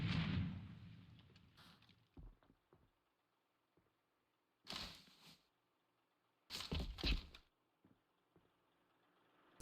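Grenades exploding in the shooter game A.V.A, a few sharp, loud blasts separated by near-silence, two standing out clearly with a lingering rumble, amid faint distant gunfire.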